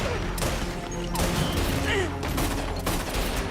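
Gunfire erupts in a TV crime drama scene, a quick fusillade of several overlapping shots with crashes, heard at moderate level amid dramatic sound and voices.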